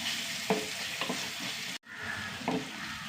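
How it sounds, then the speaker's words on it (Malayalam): Onions sizzle steadily in a hot pan while a utensil stirs them in a few short scraping strokes, up close, with a brief dropout midway and no voices. "ഉള്ളിയൊന്ന് വെക്കാം"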